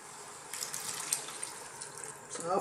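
Water streams steadily into a pan of cooking lentil dal, a continuous close rushing pour that keeps going throughout.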